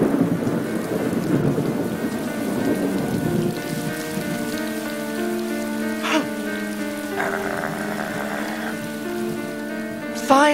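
Heavy rain pours in a thunderstorm, a steady dense wash with rumbling thunder beneath, joined by sustained tonal music that rises over the storm.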